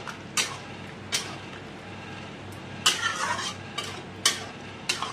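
Coriander leaves are stirred into a simmering potato and pointed gourd curry made halwai style, with a soft steady sizzle under periodic scraping strokes of a spoon against the pan.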